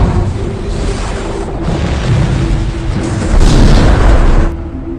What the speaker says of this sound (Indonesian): dengan perintah yang diberikan oleh Hendrix, akhirnya Kapten langsung meluncurkan satu bom nuklir.